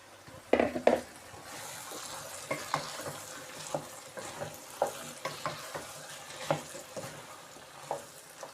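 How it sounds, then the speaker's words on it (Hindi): Potatoes fry in a pan with peas and minced meat, a soft continuous sizzle broken by repeated clinks and scrapes of a spoon stirring, fairly quiet and close. "इसके अंदर अब हम आलू डालते हैं।"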